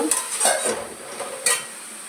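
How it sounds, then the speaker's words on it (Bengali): Chopped potatoes go into a pan of cooking thankuni leaves chorchori, giving a soft sizzle with a few scraping stirs and light clinks of a utensil against the pan, close and moderately loud. "কোচানো আলুটা দিয়ে দিচ্ছি।"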